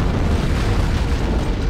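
An antimatter charge detonates aboard a ship in Halo CE, a loud, dense, low boom that rumbles on steadily without a break.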